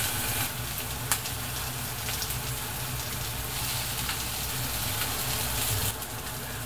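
Continuous crackling sizzle of salted horse mackerel on a hot grill, steady and close, with occasional sharper pops and no talking.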